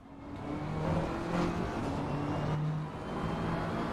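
A BMW GT3 race car engine heard from the cockpit in a racing game at Mount Panorama, a steady droning engine note with slight rises and falls in pitch, close and continuous.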